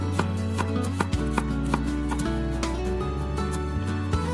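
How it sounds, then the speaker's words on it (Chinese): Kitchen knife chopping garlic on a cutting board, a run of sharp rhythmic taps over a steady low hum, close and clear with no voices. "大蒜也切一点。"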